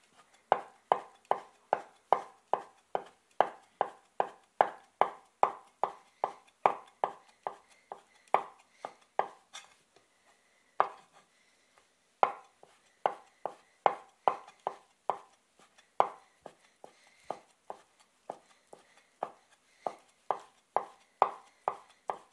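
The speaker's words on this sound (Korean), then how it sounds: "이렇게 표고까지 썰고 도마도 정리 한번 해줍니다." A knife slices shiitake mushrooms thinly on a cutting board while stir-fried pepper strips are prepared. The taps come in quick, steady runs, close and clear, with one short pause midway.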